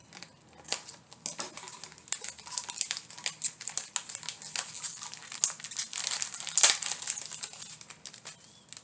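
Plastic wrapping being peeled and crinkled off burlap ribbon for an Easter bow, a steady run of close, dry rustles and crackles with sharper crunches near the end, no talking.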